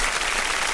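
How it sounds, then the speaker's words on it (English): A burst of applause from an audience at a radio show celebrating a historic event. It is brief and dense, with many hands clapping together in a short, even wash. "we gotta get this applause for you"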